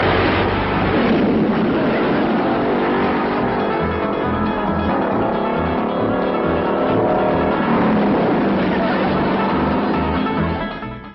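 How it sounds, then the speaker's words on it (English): A car engine starts and drives off, a dense, loud mechanical roar that holds steady for about eleven seconds before cutting out, with faint voices underneath. "Now, Jethro, see if that'll start"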